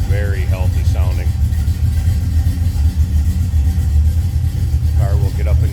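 A 1972 Oldsmobile Cutlass two-door engine runs steadily with a deep low rumble throughout, not clearly revving, while someone talks over it near the car.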